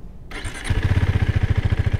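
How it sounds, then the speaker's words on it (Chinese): A KTM RC390 motorcycle with a compact, quiet exhaust cranks briefly, then catches and settles into a loud, close, steady rhythmic idle thump. "这台车的它排气管其实不吵，我可以发动给大家听一下"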